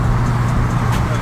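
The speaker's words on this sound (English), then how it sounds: "Look at that truck. Old school." An old-school truck passes nearby, a steady low rumbling drone with traffic hum around it, loud and continuous through the short stretch.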